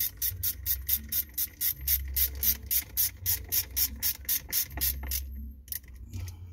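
Rapid ratchet clicking in quick regular bursts as screws are tightened on a 2011 Ford Courier starter solenoid, with brief pauses between strokes; close and fairly loud, no talking.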